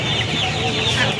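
A rooster at a chicken market clucks in a brief, dense burst, mixed in with steady noise from the surrounding poultry.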